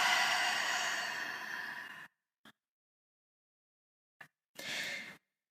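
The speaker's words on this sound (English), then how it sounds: "Take a nice deep breath in. And then exhale, relaxing on the exhale." One long, deep breath through the nose and mouth rushes loud and close for about two seconds. After a silence come a brief faint puff and a short, soft exhale, with no talking.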